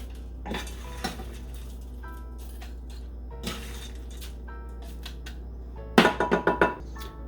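A spoon scrapes and clanks against a metal pot while turkey stuffing mix is scooped into a bowl, with scattered knocks and a quick burst of rapid clinks near the end, no speech.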